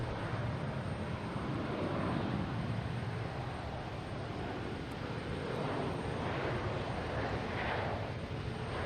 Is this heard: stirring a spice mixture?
no